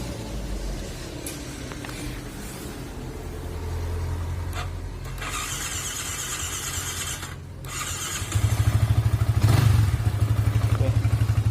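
A Yamaha Vixion motorcycle engine starts up after a cylinder block replacement, first cranking and turning over, then settling into a loud, steady close-range idle with a rhythmic throb that fills the last few seconds.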